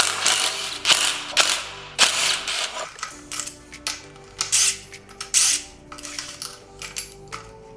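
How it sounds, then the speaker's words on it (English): A ratchet works loose the top steering stem nut on a 2006 Suzuki RM250 two-stroke dirt bike during a teardown, giving close, loud bursts of rapid metallic clicking in uneven strokes with short pauses between. "I always forget to take off this top steering stem nut, so hopefully I can get enough leverage on it and break it free here"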